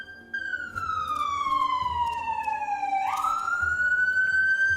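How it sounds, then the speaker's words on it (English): An emergency siren from a fire or police station a block or two away wails loudly and steadily, its pitch sliding down and then jumping back up, over a low background rumble. "Sorry for the siren."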